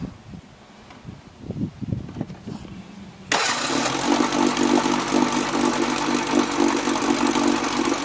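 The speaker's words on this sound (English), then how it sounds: "This engine sat idle for at least a decade before Fran brought it back. Running smooth" A vintage 1956 Johnson outboard motor cranks with a few uneven sputters, then catches and runs loudly and steadily with a buzzing, even drone.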